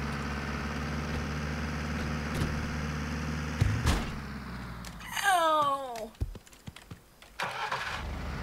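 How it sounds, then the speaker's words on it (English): A bus engine in the video game Wobbly Life rumbles at a steady idle, then revs briefly with a rising whine before cutting out in a few choppy bursts. "There's a bus."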